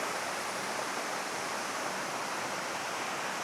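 Krangshuri Falls pours steadily into a stream, giving a continuous broad rushing hiss of falling water, close and even throughout, with no voices.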